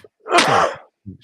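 A single sharp human sneeze bursts out close and loud, followed by a short breath or small noise.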